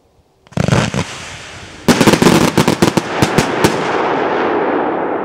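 Loud firework cake, 50 shots of 1.2 inch V-shape green with bangs, fires in a rapid string of sharp bangs and crackles, then a dense volley of repeated blasts fading into a lingering crackle.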